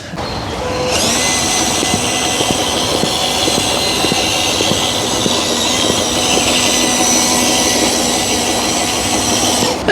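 A JXC LC80 RC crawler car driving along an outdoor trail in first gear gives a steady, continuous electric motor and gear whine with faint ticking over rough ground, loud and close throughout with no talking.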